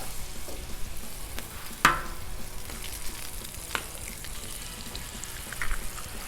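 Eggs crackle and sizzle on a hot Blackstone griddle, a steady close frying hiss with one sharp tap near the two-second mark and a smaller one later.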